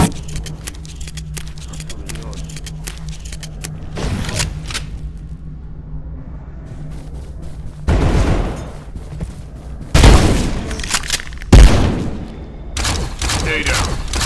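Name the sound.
frost shotgun gunfire and explosions in video game Abiotic Factor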